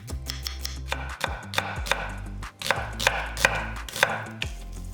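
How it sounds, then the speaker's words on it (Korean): A knife chops whole garlic coarsely and then slices half an onion on a cutting board in a rhythm of crisp, close thuds, each strike distinct, with no speech. "통마늘 3개는 살짝 굵게 다져서 담고 양파 반개는 살짝 굵게 채 썰어"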